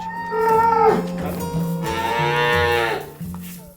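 Cows moo repeatedly in long, loud, drawn-out calls, several animals overlapping close by while waiting to be tied up, with no talking.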